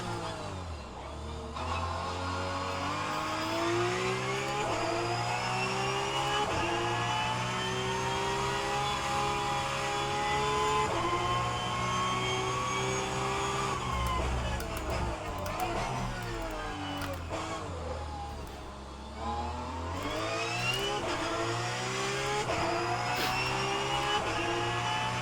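A Porsche GT3 Cup 992 race car engine revs hard around the Monaco street circuit, rising and falling through gear changes, close and loud throughout with one short lull.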